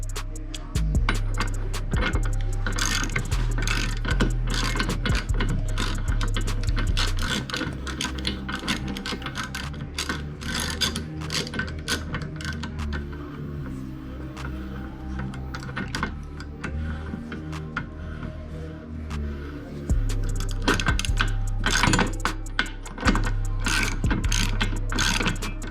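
Continuous rapid ratchet clicking as a rear hub nut is tightened on a 1998 Dodge Neon fitted with a new bearing and extended studs, loud and close with steady mechanical drone throughout.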